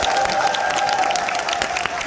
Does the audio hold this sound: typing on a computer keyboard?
no